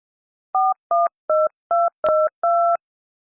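Telephone keypad dialing, six distinct two-tone DTMF beeps in a steady rhythm, close and clear with no talking.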